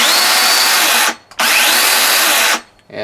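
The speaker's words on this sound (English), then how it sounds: "And here's what the saw sounds like." Makita brushless 18V LXT cordless chainsaw, XCU11 kit: loud high-pitched electric whir in two bursts, with a brief drop off the trigger between them, then the motor spins down to quiet.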